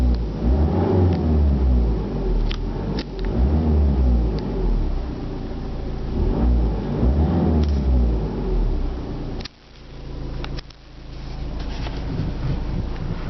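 A 2011 Peugeot RCZ engine revving while parked, with repeated rising pulls toward a 2,500 RPM limiter and a dip in the middle. The deep, loud, close rumble plays alone.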